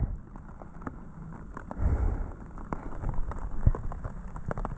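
Rain patters onto a tarp tent shelter at a campsite with a small fire, irregular close drops tapping the fabric over a steady wet background, with a few heavier thuds.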